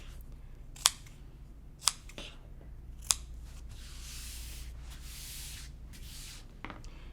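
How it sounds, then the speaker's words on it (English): Scissors snipping a triangle into fabric beside the stitching of a cross-stitch zipper bag, three sharp close snips spaced about a second apart, followed by soft rustling of cloth and one faint last snip, with no talking. "I'm going to cut a triangle"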